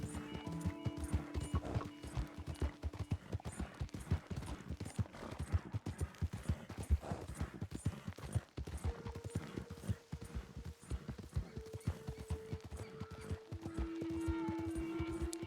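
Horse hooves clip-clop in Red Dead Redemption 2, a steady, rhythmic trot that runs the whole way through under sustained game music tones, with a faint voice in places.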